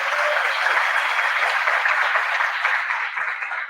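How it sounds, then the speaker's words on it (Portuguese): Steady, dense audience applause fills the room as an engineer from Florianópolis is welcomed onto a stage, sustained at an even level for the whole stretch. "Uma salva de palmas"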